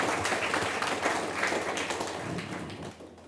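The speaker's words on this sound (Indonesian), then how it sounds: "Tepuk tangan untuk dekan kita." Audience applause for a faculty dean at an Indonesian graduation ceremony, fairly quiet and diffuse clapping that fades gradually toward the end.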